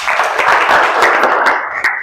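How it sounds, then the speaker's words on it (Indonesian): A classroom of students applauds a classmate with quick, bright, dense clapping that holds steady and then thins out into a few final claps. "Tepuk tangan buat Iswandi"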